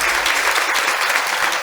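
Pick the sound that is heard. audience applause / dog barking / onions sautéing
audience applause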